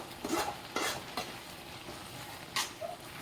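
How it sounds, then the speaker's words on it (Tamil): A spoon scrapes and stirs through carrot halwa with sugar in a cooking pan, giving soft irregular scraping strokes over a faint steady sizzle. "சர்க்கரை போட்டாச்சு, கிளறிடலாம்"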